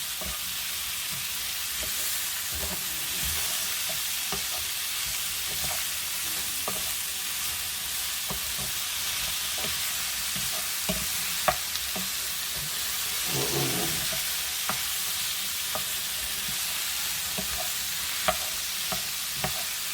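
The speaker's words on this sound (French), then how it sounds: "Donc on va attendre d'avoir une bonne coloration des oignons." Finely cut onions fry steadily in a pan for a vegetable tagliatelle dish, giving an even close-up sizzle with occasional spoon scrapes and light taps as they are stirred, with no talking.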